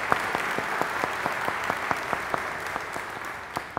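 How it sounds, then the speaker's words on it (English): A church congregation gives sustained applause at a traditional service, with many hands clapping steadily and a few sharper claps standing out. "So let's give them a round of applause."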